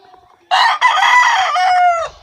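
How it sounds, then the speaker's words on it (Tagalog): A rooster crows loud and close in a single long call of about one and a half seconds, among a flock of chickens, with faint clucking just before it. "Ayan po yung kanyang mga manok."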